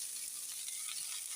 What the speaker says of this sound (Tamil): அப்புறம் இந்த தக்காளியும் போட்டுடலாம். போட்டு நல்லா வதக்குவோம்.